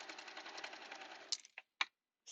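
A serger sewing machine finishing a fabric edge on a bodysuit, a fast, even whirring stitch run lasting over a second, then stopping with a few separate clicks and brief bursts.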